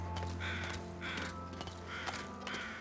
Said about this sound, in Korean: 야 까마귀들 쏠수 있었으면 난 진짜 진작에 쐈다